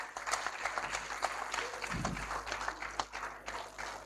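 An audience applauds an honoree being recognized at a ceremony, a steady patter of many hands clapping with a brief low thump near the middle, continuous and moderately loud.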